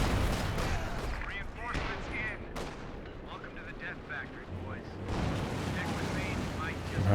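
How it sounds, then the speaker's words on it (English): Artillery and gunfire in a Company of Heroes 2 multiplayer battle rumble and crack in repeated bursts and booms, with a voice talking over the continuous battle noise. "So you get some major artillery in there as well."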